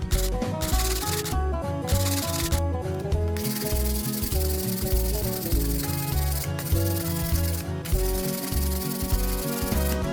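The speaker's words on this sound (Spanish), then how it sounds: "Para pulir los bordes y darle mejor forma al corte, voy a utilizar una lija del número 120." Sanding the edges of a copper-clad PCB with 120-grit sandpaper: loud, close, rhythmic back-and-forth rasping strokes repeating steadily, with no talking.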